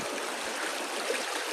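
River water flows in a steady, dense rush, close and continuous with no pauses and no voices over it.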